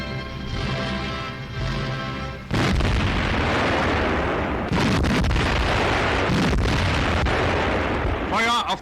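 WWII artillery opens fire on Soviet positions on the Eastern Front, with heavy booms and blasts crashing one after another over a rumbling background, loud and close, after a stretch of music.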